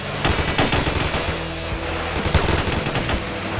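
Rapid machine-gun bursts and overlapping gunshots from a GTA San Andreas shootout crackle loud and dense throughout, forming a near-continuous volley with no pauses.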